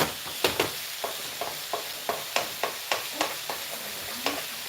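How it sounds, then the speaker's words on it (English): A utensil scrapes through chicken and cauliflower bake ingredients in a pan in regular strokes, about a dozen crisp knocks and scrapes over a faint sizzle. "we're gonna just stir this a bit"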